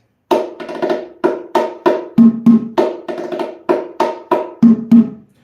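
Bongo drums play a repeating quadruplet bolero pattern with quick four-note groupings, crisp slaps and ringing open tones, loud and alone.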